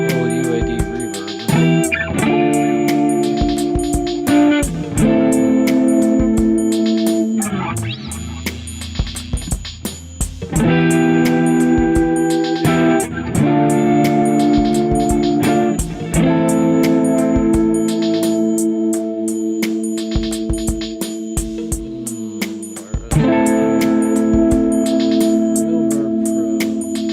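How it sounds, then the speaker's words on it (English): An electric guitar plays chords and picked notes with a roomy reverb tail, loud and sustained, with short pauses between phrases. "We definitely need a little UAD reverb"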